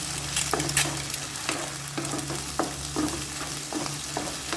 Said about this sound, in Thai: เอากุ้งลงไปขัว ขัวมันสุก